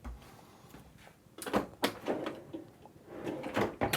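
Drawer sliding out aboard a Hanse 460 cruising yacht's galley, a few soft knocks and a smooth rolling slide with a couple of louder clunks near the middle and end, close by with no talk.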